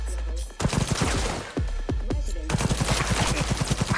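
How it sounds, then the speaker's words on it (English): Rapid gunfire in the video game Cyberpunk 2077 rattles out in bursts, close and sharp, with a brief gap before a fast automatic volley. "Heard shots."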